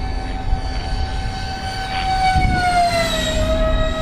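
LX Models F-4 Phantom II RC jet, electric ducted-fan powered, flying at full throttle through steep turns overhead: a steady high whine with a rising pitch sweep as it passes, loud and continuous over four seconds.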